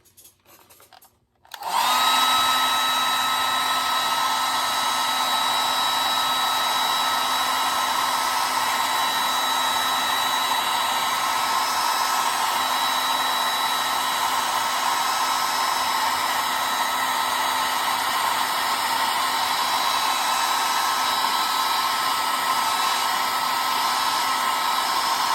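A hair dryer switches on after a brief quiet moment and runs at a steady, loud whine with a constant airy roar, drying paint on a house finch painting, with no speech throughout.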